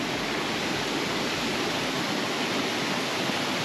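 Water from a mountain stream in North Sikkim tumbles over rocks, a steady, loud broadband rush that holds even and unbroken throughout with no voices.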